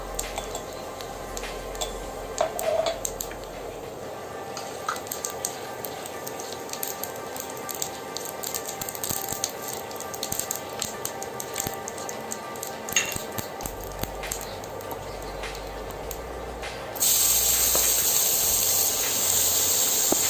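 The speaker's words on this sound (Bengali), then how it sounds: "আমি 1 চামচ জিরা ফোড়ন দিয়ে দিচ্ছি।" Cumin seeds dropped into hot oil in a pan after frying bottle gourd pieces make a steady hiss and sizzle with scattered clinks of a spoon, then the sizzle swells louder and brighter near the end.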